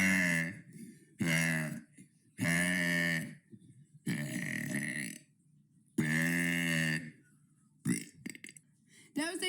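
Several long, loud, throaty burps come one after another with brief pauses between them, some grunting and rough, ending in a few short choppy mouth noises.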